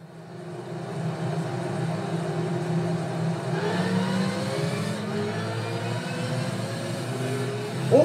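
A Mazda 787B race car engine in Gran Turismo 5 drones steadily at Fuji Speedway, then climbs through rising revs as it accelerates, a continuous buzzing whine with no talk.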